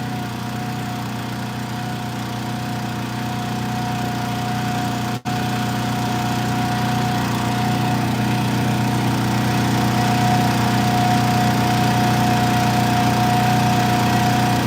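A tractor engine drones steadily with a low, constant hum throughout, close and unbroken apart from one brief dropout midway, during maple syrup boiling in Pennsylvania.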